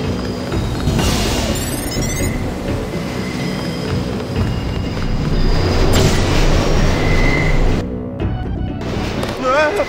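A subway-style train ride in the video game Deus Ex, heading to Hell's Kitchen in New York, with a loud continuous rumble of rolling wheels and rattling cars. Squeals and a few electronic tones cut through, while voices speak over it.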